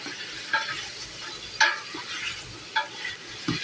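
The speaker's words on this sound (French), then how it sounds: "On va revenir nos saucisses." Sausages fry in a pan for rougail saucisse, giving a soft, even sizzle with a few sharp scrapes and clinks as they are stirred around.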